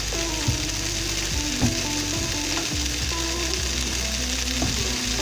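Lean ground meat for moussaka sizzles steadily in a hot pan, with a constant crackling hiss and repeated scraping knocks as it is stirred and broken up, close and alone.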